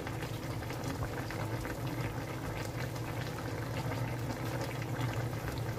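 Water bubbling at a vigorous boil close by, a continuous churning gurgle with no voices over it.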